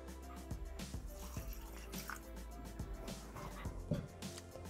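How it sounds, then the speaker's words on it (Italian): Water pours into a Thermomix bowl holding risotto rice and wine, giving quiet splashing and dripping with a few small clinks, faint and close. "Aggiungiamo l'acqua"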